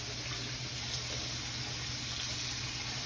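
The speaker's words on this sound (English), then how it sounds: "I'm gonna add probably about a half a cup of water." Hot water pours steadily into a pan holding salmon and asparagus, a continuous close rushing splash with no pauses, heard alone.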